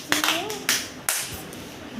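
Schoolchildren in a first-grade classroom clap in a few short, sharp bursts, with a voice rising over the noisy room.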